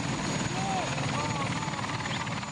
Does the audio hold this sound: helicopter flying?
yes